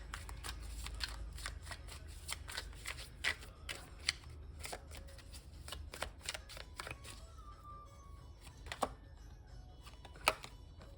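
Tarot cards are shuffled and drawn in a quiet room, with a rapid run of crisp riffling snaps and flicks and a few sharper slaps as cards land, close and soft.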